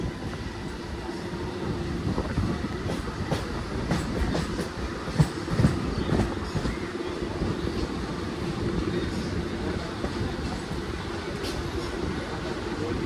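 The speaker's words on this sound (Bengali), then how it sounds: "আর এই যে আমাদের ট্রেনটা এখন সবে হাওড়া থেকে ছেড়েছে" A passenger train pulling out of Howrah station rolls along with a steady, close rumble and rhythmic clickety-clack of wheels over rail joints, with a brief louder knock midway and no talk.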